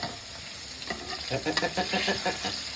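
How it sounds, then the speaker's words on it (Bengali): Eggplant slices fry in a pan in a home kitchen, crackling and sizzling close by with bursts of oil spatter that swell and fade as they are stirred, and nobody speaks. "বেগুন ভাজা হচ্ছে"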